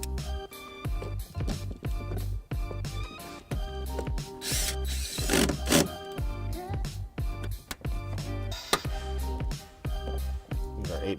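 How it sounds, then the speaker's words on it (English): An 8mm socket on a ratchet tightens a bolt on a 2020 Honda Pilot during trailer wiring installation, giving rapid repeated clicking bursts with pauses, plus a few louder clunks and handling noises, close up. "Use our 8mm socket to replace our bolt up top here."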